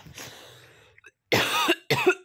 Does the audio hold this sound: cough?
yes